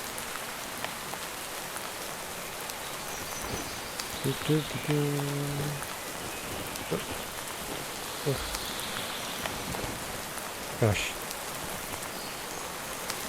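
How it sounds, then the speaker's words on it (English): Steady rain falls in a foggy Minecraft world running the Dawncraft modpack, a continuous hiss of drops spread across the whole stretch, with a few brief in-game knocks and chimes and a short spoken exclamation over it. "So foggy and rainy."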